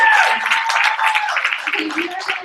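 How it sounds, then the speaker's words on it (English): Brief applause from an audience at a business training event in Boise, a short wash of clapping with voices mixed in. "Let's give her a big round of applause."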